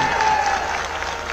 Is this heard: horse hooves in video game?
no